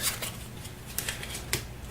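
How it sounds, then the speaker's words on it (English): Eldritch Horror research card deck being shuffled, soft papery riffles and taps in a few quick bursts, quiet and close, with no talking. "We have the research deck here for Azathoth. So give him a quick shuffle"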